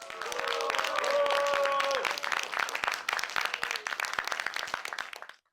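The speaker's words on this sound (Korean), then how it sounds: "큰 박수 부탁드리겠습니다." Lively applause from an audience at a Korean civic talk event welcoming a lawyer, with cheers over the clapping at first, then thinner clapping that fades to a stop.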